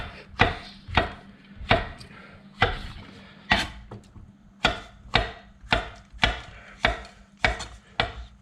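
Knife chopping through beef on a cutting board for a stir-fry, about twelve sharp, evenly spaced chops in a steady rhythm, close and clear, with no talking.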